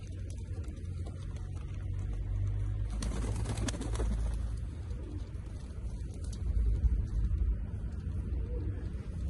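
Soft pigeon cooing under a steady low rumble of background noise, with a brief louder flutter or rustle midway.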